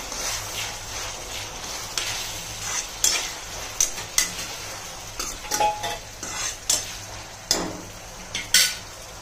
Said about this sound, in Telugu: కడిగి పెట్టుకున్న రొయ్యలు 100 గ్రాములు ఆయిల్లో ఫ్రై అవ్వాలి